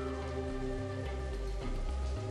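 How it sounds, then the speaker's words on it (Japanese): Rain begins falling in the video game Soul Hackers 2, a steady hiss of drops over a constant layer of droning in-game music, with no one talking. "Oh, se ha puesto a llover."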